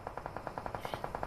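Rapid automatic gunfire in a battle royale video game match, a steady burst of about a dozen evenly spaced shots, fairly loud and continuous, with no talk over it.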